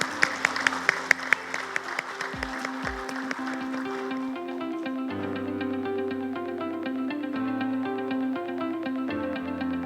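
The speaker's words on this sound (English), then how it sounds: "Please give His Excellency Kwon Hee-seok a big round of applause" Audience at an ASEAN–Korea business forum opening session claps steadily in a large hall, a dense wash of applause that holds level throughout, with music or a sustained tone underneath.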